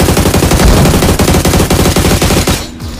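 A battle royale shooter's gun fires in loud, rapid automatic bursts almost continuously for a few seconds, then tails off into quieter game noise at the end.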